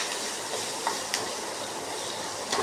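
Seasoning with asafoetida sautéing in a pan for curd rice, a steady soft sizzle with a few light stirring clicks, close and even throughout, no voices.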